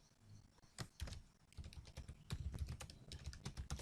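Someone types on a computer keyboard in quick irregular bursts of clicky keystrokes, close and fairly quiet, with short gaps between runs of keys.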